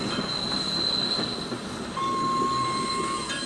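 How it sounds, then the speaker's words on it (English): A steam-era train from the 1957 film The Bridge on the River Kwai rolls along a railway with steady rumbling and high, sustained wheel squeals, loud and continuous throughout. "I really like all the trains."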